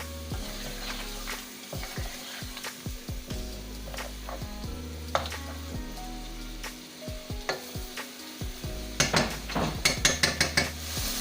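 Chicken fries in oil in a pot for a chicken qorma, a low steady sizzle broken by scattered ladle scrapes and clinks, with a run of rapid metallic taps near the end.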